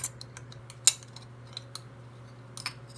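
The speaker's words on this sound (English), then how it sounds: "Now this onion powder, after you open it, it gets really all stuck together. So, I just get it out with a knife." A knife scrapes and taps inside a jar, prying out onion powder that has clumped together. It makes a few sharp metallic clicks and scratches over a low steady hum, with no voices.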